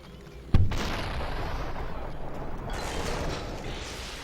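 A shotgun fires once in the video game SUPERHOT, a single loud blast followed by a long rumbling decay with no talk.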